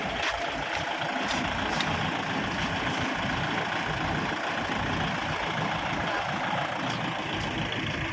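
A tractor engine runs steadily at a moderate distance as it drives up onto a new trailer, a continuous low rumble with no pauses.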